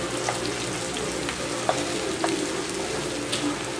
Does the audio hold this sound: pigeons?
no